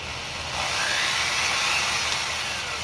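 Buffing wheel loaded with white compound spinning steadily, a continuous bright whirring hiss at even loudness, close by and alone with no talk.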